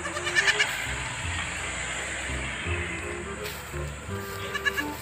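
Several goats bleating on a rural farm, repeated overlapping calls over a constant background hum, some near and some farther off, with no talk.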